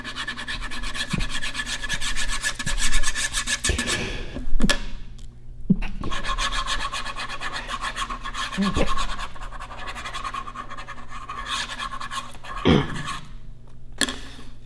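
Ink markers in blue and black rub and scratch steadily across paper, a close, continuous scribbling sound with short pauses and a few knocks.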